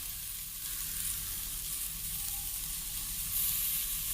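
Broccoli pieces frying in a pan for a broccoli drumstick curry, a steady, fairly loud sizzle that hisses continuously without pause.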